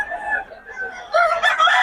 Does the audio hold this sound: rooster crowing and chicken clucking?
yes